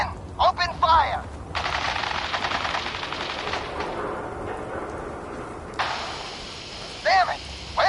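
Video game machine-gun fire erupts after a shouted order to open fire, a loud rattling volley lasting several seconds before fading out, with short bursts of voices before and after the shooting.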